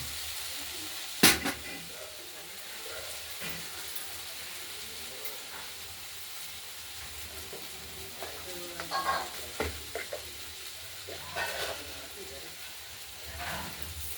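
Thin-cut pumpkin frying in oil with mustard seeds and green chilli, a faint steady sizzle with a sharp clatter early on and scattered stirring scrapes later, with occasional soft talk.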